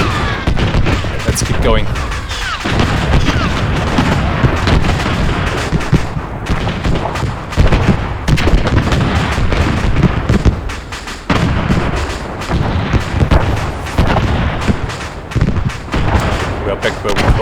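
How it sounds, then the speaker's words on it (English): Battlefield din in Arma 3, a constant barrage of close, loud gunfire and booming explosions hammering without pause, with a voice briefly cutting through the chaos. "there's a lot of stuff exploding down there"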